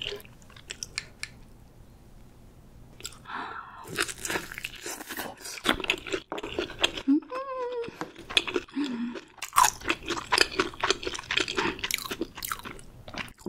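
Close, crisp bites and crunchy chewing of Korean jeon pancakes during a mukbang meal, irregular bursts of crackling crunches separated by quieter pauses, loud and intimate.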